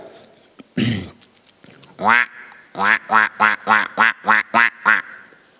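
After a sharp breathy noise, a voice imitates a goose honking: one honk, then a quick, even run of about eight nasal honks, in a Sicilian series of animal imitations.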